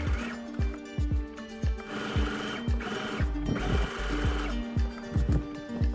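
A sewing machine stitches a waistband facing onto a blouse, running in quick bursts of rapid needle clatter with short pauses between, close and clear.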